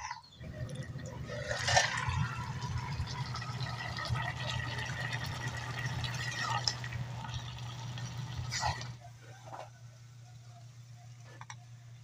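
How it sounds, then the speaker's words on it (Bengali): Broth poured into a pot of fried rice while making khichuri, a steady rushing liquid pour lasting several seconds, then stopping to a low steady hum with faint clinks. "এবার আমি তো ঝোল দিয়ে দেবো"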